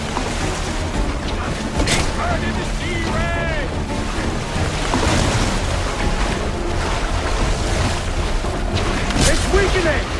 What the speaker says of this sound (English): The blast has torn the rope!